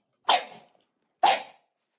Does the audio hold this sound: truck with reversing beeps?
no